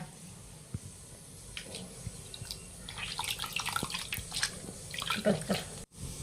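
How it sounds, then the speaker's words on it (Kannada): Water being squeezed by hand out of soaked soya chunks, with wet squelches, drips and trickles close by, fairly quiet, rising in busy bursts toward the end. "ಈ ತರ ಪ್ರೆಸ್ ಮಾಡಿ ಪೂರ್ತಿ ನೀರು ತಗೊಳ್ಳೋಂದ್ರೆ"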